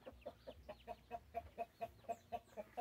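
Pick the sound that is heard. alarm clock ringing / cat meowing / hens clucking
hens clucking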